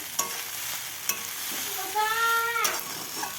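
Pasta with masala being stirred in a pan, with a sharp spatula tap now and then over a steady sizzle and brief squeaky scraping toward the end.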